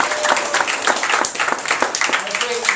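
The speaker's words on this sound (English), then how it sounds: "Let's give Leonora a round of applause." An audience applauds a woman named Leonora, organizer of a gathering, with lively clapping that swells and pulses under a busy room, voices mixed in.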